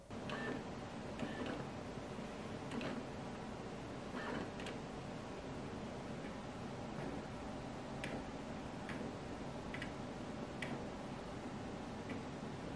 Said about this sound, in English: Here's a test of the autofocus sounds for the RF and EF version.